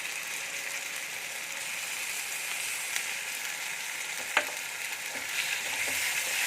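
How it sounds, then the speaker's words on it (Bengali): Nut, melon seed and poppy seed paste sizzles and fries steadily in a pan with ginger, a constant close hiss broken by a few faint scraping stirs. "এবারে বাদাম, চালমগজ আর পোস্তর পেস্টটা দিয়ে দেব।"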